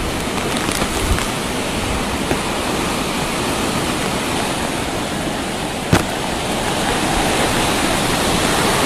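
Super typhoon Rolly lashes Albay with a steady, loud roar of wind and driving rain, a dense unbroken wash of noise with one brief sharp knock.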